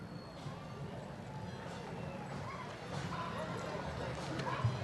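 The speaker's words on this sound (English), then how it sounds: "Judge is a miniature horse who is 14 years old, being driven by his owner, Dana." A 14-year-old miniature horse pulls a wagon in a Christmas parade, its hooves clip-clopping steadily on the pavement beneath constant crowd noise and voices.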